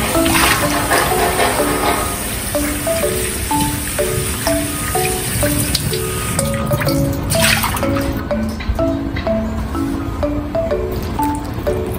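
Running water rinses red dates at a kitchen sink, a steady close splashing stream with a light melody playing beneath it.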